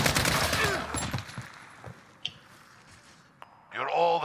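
Rapid bursts of video game gunfire crackle through the first second and a half amid excited voices, then fade to scattered single shots and quieter background before a loud clattering burst near the end.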